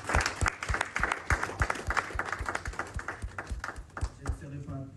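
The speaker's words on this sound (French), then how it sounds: "je demande à toutes et à tous d'applaudir très fortement" Audience applause at a stop-violence exhibition event, a dense run of hand claps with sharp individual claps standing out near the listener, continuing steadily for several seconds before thinning slightly toward the end.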